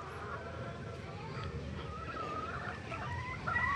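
Chickens and young chicks in a breeding pen at a game farm, soft clucking and faint peeping over a steady background hum, fairly quiet and continuous, with a voice speaking faintly.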